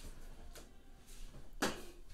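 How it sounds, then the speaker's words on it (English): A door shut indoors during a makeup session, a single soft knock near the end of a quiet stretch, faint against a low room background. "let me shut this door."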